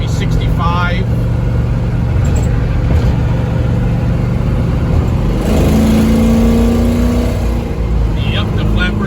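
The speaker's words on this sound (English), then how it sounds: "Drives real smooth. I'm doing about 70 miles an hour right now, maybe 65." A 1970 Chevelle with a 454 and automatic transmission cruises at highway speed, a steady low engine drone and road rumble throughout, with someone talking over it and a brief rise in engine tone partway through.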